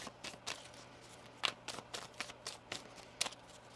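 Tarot cards being shuffled during a reading: a string of soft, papery riffling bursts, some crisper and sharper than others, quiet and close, with no talking.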